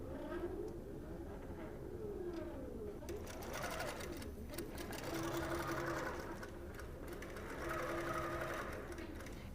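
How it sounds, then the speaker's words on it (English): A sewing machine stitches out a quilt block for a toddler gift, running in a steady continuous whir throughout, with its pitch rising and falling as the stitching speed shifts, close and alone. "now I can stitch it out"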